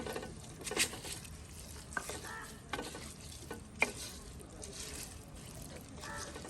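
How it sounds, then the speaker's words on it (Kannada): Rice coated with masala for vegetable pulao is stir-fried in a pressure cooker, giving a quiet, steady frying hiss. A few soft knocks and scrapes come from the stirring spoon. "ರೈಸನ್ನು ಈ ಥರ ನಿಧಾನಕ್ಕೆ ಮಿಕ್ಸ್ ಮಾಡಿ ಫ್ರೈ ಮಾಡಬೇಕು."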